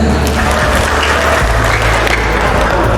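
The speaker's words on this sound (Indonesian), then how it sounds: "Oke, tepuk tangan untuk kita semuanya" Loud, sustained applause from a community gathering of neighborhood officials and residents, a continuous wash of clapping with a low hum underneath throughout.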